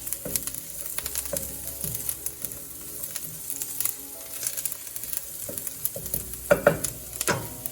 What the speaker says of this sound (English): Let the onion cook until it's slightly translucent.